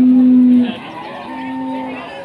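A Pegon cow at a livestock market gives a loud, close, drawn-out moo that fades into a lower, softer lowing, with background market noise and people talking.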